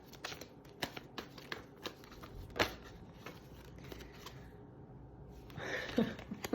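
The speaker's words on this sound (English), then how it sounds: "Put them to the deck while I shuffle." Oracle cards are shuffled by hand, giving a string of soft, close riffling clicks and flicks at an irregular pace, with a brief crinkly rustle near the end.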